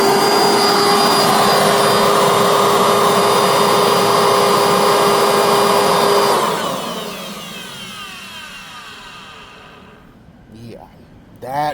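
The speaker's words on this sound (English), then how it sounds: "just to let you all hear the 90s Dirt Devil goodness" A 1990s Dirt Devil vacuum cleaner runs with a loud, steady whine and hiss for about six seconds, then spins down with a falling pitch until it fades to near silence.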